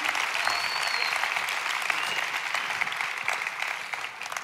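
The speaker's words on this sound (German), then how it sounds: "Lass uns Tim einen Applaus geben." Sustained audience applause for Tim at a Sunday Night church service, a dense steady patter of many hands clapping that fades slightly toward the end, with no voices over it.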